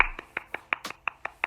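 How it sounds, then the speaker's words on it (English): A few people clapping in an evenly spaced, sparse rhythm, close and fairly soft, at a small informal gathering. "Applause, please."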